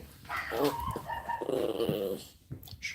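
A dog growls and grumbles at the mail carrier, a close, rough, sustained rumble that rises and falls over a few seconds in an indoor setting.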